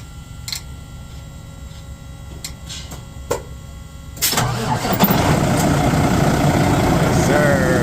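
A Cummins X15 semi truck engine cranks and fires partway through, after a few faint clicks, then settles into a loud, steady, rumbling idle.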